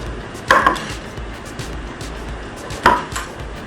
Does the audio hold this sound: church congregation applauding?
no